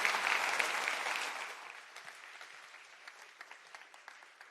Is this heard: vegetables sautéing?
no